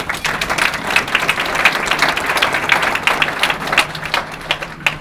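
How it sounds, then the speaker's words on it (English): An audience at the 2015 Martin Luther King Jr. Unity Breakfast at Muskegon Community College claps, producing dense, steady applause that fills the room at a constant level from start to finish. "I think you should all give yourselves a round of applause for that"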